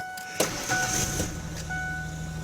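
A 1996 Ford Ranger 4.0 truck engine cranks and catches, settling into a steady low idle, heard up close.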